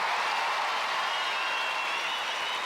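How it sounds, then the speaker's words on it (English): Studio audience applause on the 1995 Australian Gladiators TV show, Australia vs. Russia episode: a steady, dense wash of clapping and crowd noise held at an even level for nearly three seconds, with no clear voice over it. "I think a big round of applause for Larissa"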